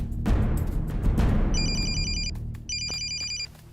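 A telephone rings in two short electronic trilling bursts with a gap between them, heard over busy background noise and rustling.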